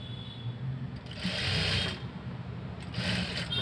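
Sewing machine stitching piping onto a blouse, a quiet close-up whirring run in two or three short bursts separated by brief pauses.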